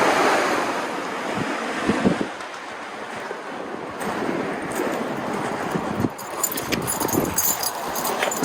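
Ocean waves wash onto Edisto Beach in the morning, surf rolling continuously with heavy wind buffeting the microphone and no voices.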